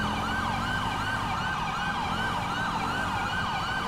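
Emergency vehicle sirens in the LSPDFR police video game sound a fast rising-and-falling yelp that repeats rhythmically and loudly over a constant engine rumble, with no talk.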